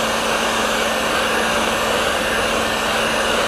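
A heat gun blows a steady, loud whooshing roar with a faint whine as it warms faded plastic panels on a KMX200 motorcycle, unchanging and alone throughout.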